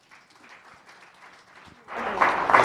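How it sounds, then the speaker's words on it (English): Audience applause at an education summit in Omaheke, starting as a faint patter under a murmuring hall and swelling into fuller, steady clapping near the end. "Can we give another round of applause?"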